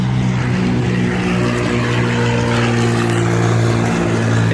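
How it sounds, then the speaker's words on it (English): A Cessna 172 light aircraft with an extra 20 horsepower runs its piston engine at a steady, loud drone, its propeller throbbing evenly and close by throughout, with no voices. "This is a Cessna 172. This one actually has an extra 20 horsepower."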